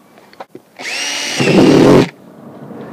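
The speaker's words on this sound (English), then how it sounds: "The first thing we're going to do is drill some holes in the bottom of one of our crates." A power drill whines steadily for about a second, then bites into a plastic crate with a rougher, louder grinding before stopping; close and loud.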